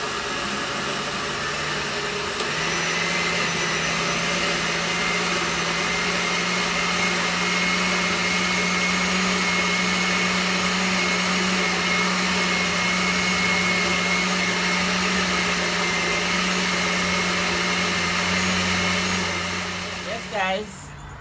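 A blender runs continuously while blending pumpkin and carrot punch, a loud, steady whirring drone that holds for nearly twenty seconds before cutting off with a brief rattle.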